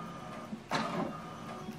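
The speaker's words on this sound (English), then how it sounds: "So what it's doing now is printing the alignment." An HP Deskjet 2700-series inkjet printer printing an alignment page gives a faint whirring carriage pass with a brief mechanical clunk and soft motor hum, quiet and close with no talking.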